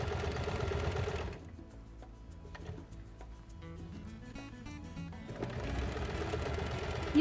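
A sewing machine runs a seam on fabric for a mug hug, its needle chattering steadily and close, with a pause in the middle before the stitching resumes.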